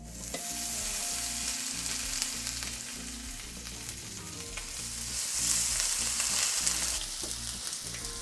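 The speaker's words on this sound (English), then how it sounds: "add in that beautiful buttered lobster tail. Hear the sizzle." Steady, loud sizzling of a buttered lobster tail frying in a hot pan, with a brief scrape of stirring; it swells slightly louder near the end, with no talking.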